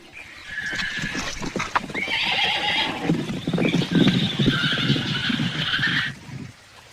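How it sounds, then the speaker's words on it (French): Horses whinny loudly in a 1958 adventure film soundtrack, shrill neighs rising and falling over a steady patter of hooves clip-clopping close by for about six seconds before fading. "Nous avons d'excellents chevaux"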